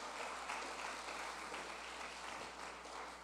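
A church congregation applauds during a worship service, a faint, steady wash of clapping that continues evenly with no talk over it.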